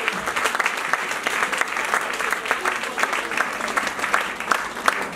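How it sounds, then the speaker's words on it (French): An audience at a talk on the cosmetics sector in Africa claps steadily and loudly, dense applause filling the whole stretch with a few sharper claps standing out. "Je vous prie d'acclamer très très fort pour celui qui n'aime pas qu'on l'acclame"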